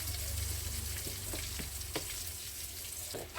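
Frozen grated coconut frying in a pan for cucumber sambar, a steady close crackling sizzle with a few sharp pops and occasional stirring scrapes, no voices.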